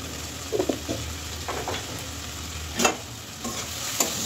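Ground cumin and coriander frying in a pan for khichuri, stirred with a spoon: steady close sizzle with a few scraping strokes and clinks, no voices.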